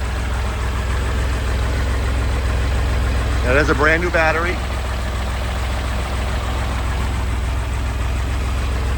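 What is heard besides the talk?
1964 Chevy Corvair Monza 110 engine idling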